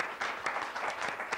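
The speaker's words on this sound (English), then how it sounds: "please give a nice round of applause to Ivani Hobbs" Audience on a late-night show applauding as guest Ivani Hobbs comes out, a moderately faint, brief patter of clapping with a few sharper hits.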